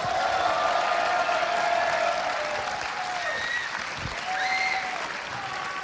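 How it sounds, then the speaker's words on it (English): Sustained audience applause fills a StarCraft II Heart of the Swarm Global Invasion grand final tournament venue, a steady dense roar of clapping with scattered cheers, loud and continuous throughout with a faint announcer voice underneath. "Please keep the round of applause going."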